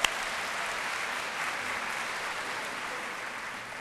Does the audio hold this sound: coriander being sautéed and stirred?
no